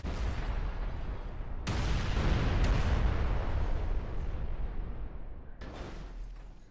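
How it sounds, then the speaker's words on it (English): An armored car is blown up by sticky bombs in GTA 5, a loud booming explosion that rolls into a long rumbling blast, then a second sharp burst near the end. "so it blew up on the first sticky bomb"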